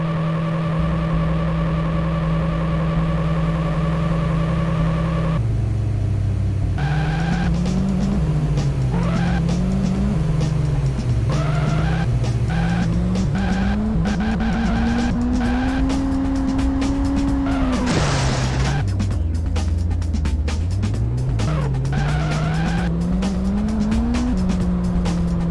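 A car drives through a city in the PlayStation game Auto Destruct, its engine droning and rising and falling with gear changes while tires squeal repeatedly during turns, loud and continuous throughout.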